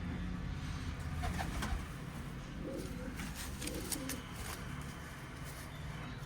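Pigeons in a loft coo softly at a distance over a steady low background rumble, with a few brief chirps in between.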